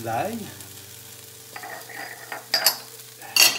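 Onion frying in a pan, a soft steady sizzle with occasional scraping stirs and utensil clicks, close, under a brief stretch of speech at the start.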